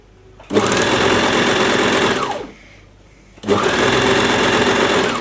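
Sewing machine running a long side seam on a plus-size dressing gown, a steady loud whirring stitch for about two seconds, a brief pause, then another sustained run.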